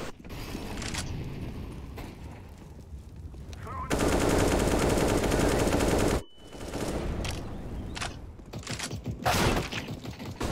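Rapid bursts of automatic gunfire and single shots crack out in an online shooting video game, loud and sustained across the middle stretch, with players chatting over the action before and after.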